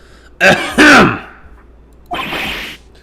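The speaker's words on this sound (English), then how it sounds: "Maybe I should clear my throat." Two loud, close throat-clearing grunts in quick succession, a short pause, then a breathier rasping clear of the throat.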